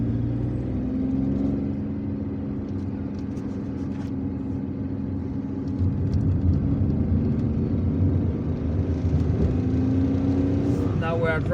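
A car drives along a city road in Algiers, with a steady low engine and tyre rumble that stays constant from inside the vehicle and swells slightly midway.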